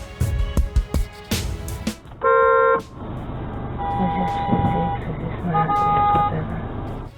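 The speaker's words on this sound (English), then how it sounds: "Once again, blue Civic gets honked at." Several drivers in traffic honk at a blue Honda Civic: a long loud blast, then sustained and repeated horn tones over road noise, with a voice talking early on.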